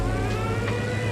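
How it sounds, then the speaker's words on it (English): A plane's siren in the War Tycoon game wails steadily with a wavering tone over a low engine rumble, loud and continuous for a brief moment. "And then here's the siren sound."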